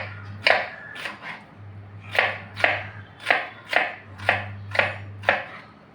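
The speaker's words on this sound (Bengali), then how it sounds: "চলো দেখি কত ছোট ছোট কাটলাম।" A knife chops tomatoes and onions on a cutting board in a steady run of about ten crisp, close strikes.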